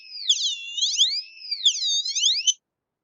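Light-controlled electronic oscillator giving a clean, high whistling tone that sweeps up and down in pitch as a hand moves over the light sensor, several gliding swoops for about two and a half seconds, then silence.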